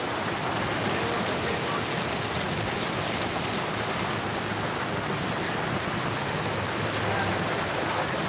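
Heavy monsoon rain pours down steadily in Sangameshwar, Ratnagiri, in the Konkan region, a loud, unbroken hiss of drops drumming on surfaces with no pauses and no voices.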